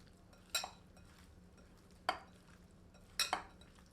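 A utensil clinks three times against a bowl as raw chicken is mixed with salt, turmeric and black pepper, with quiet, close scraping between the knocks.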